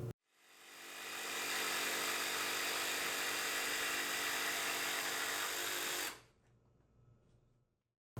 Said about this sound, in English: I'll make one cut through all 4 pieces